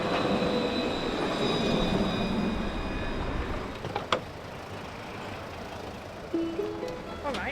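Tram arriving at a stop in Tenerife, a loud rolling rumble with whining, squealing tones that fades as it slows, then brief clanks and a short electronic beep.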